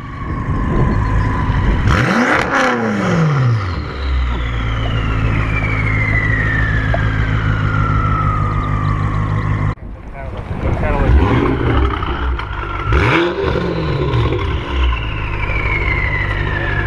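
A BMW M5 revs hard at a car meet, loud and close, with two swelling revs that climb and fall away, rising over steady wind and crowd noise and a voice.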